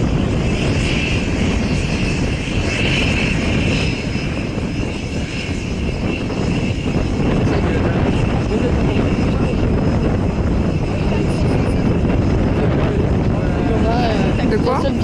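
A skydiving airplane's engine drones loud and steady in flight during a parachute jump, a constant roar that fills the whole stretch.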